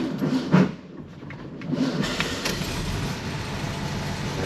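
Original 1960 VW Beetle engine idling with its manual choke pulled, a steady low rumble running throughout at moderate level with a slight change in tone partway through.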